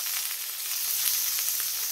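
Steak sears in a hot pan with a little olive oil, a steady bright sizzle with faint crackles, close and continuous, no voices.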